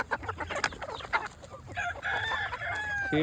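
Desi free-range chickens cluck in quick bursts nearby while feeding, then a rooster crows loudly, its call rising and trailing off at the end.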